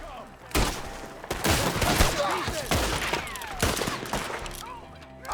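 Rapid gunfire fills a Red Dead Redemption 2 shootout, with dense, overlapping rifle and pistol shots cracking in irregular bursts, mixed with shouted voices throughout.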